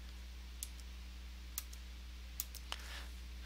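Control D pressed on a computer keyboard: a few sparse, light clicks of keys, faint and spaced apart over a quiet room hum.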